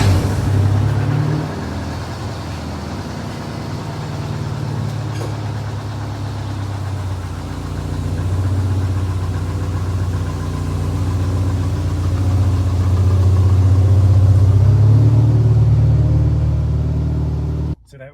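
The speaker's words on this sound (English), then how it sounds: "that was the triumphant shot of it driving out of the garage" A Toyota 2.5 litre 5TS-swapped car engine rumbles steadily at low pitch, idling and then pulling away out of a garage with gentle revving, continuous and fairly close, with no talking.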